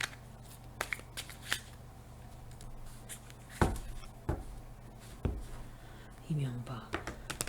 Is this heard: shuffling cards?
yes